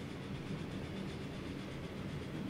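A train in the railway-building game Transport Fever 2 rolls through a junction onto outer platforms, a quiet steady rumble with faint clickety-clack, continuous and somewhat distant with no voices.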